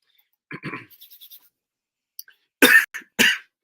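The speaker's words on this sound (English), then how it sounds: "can't cut out the coughing on the line" Two or three harsh coughs, close and abrupt, following some soft scratching noises in an otherwise quiet room.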